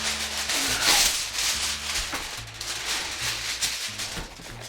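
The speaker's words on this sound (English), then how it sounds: "this is a big, huge piece of very heavy-duty aluminum foil" Big sheet of very heavy-duty aluminum foil being handled and folded over celery, giving soft crinkling and rubbing rustles in uneven bursts close to the microphone, with a low hum underneath.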